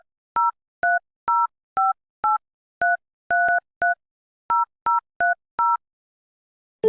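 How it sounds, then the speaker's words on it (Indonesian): Telephone keypad tones ring out loud and clean, about thirteen separate two-tone beeps in an uneven dialing rhythm, followed by a short burst of sound at the very end. "langsung saja kita telepon Mas Seh."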